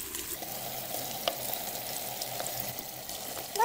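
Chicken pieces fry in a pot of hot oil with garlic for haleem, a quiet, even sizzle with an occasional soft clink of a stirring spoon and no talking.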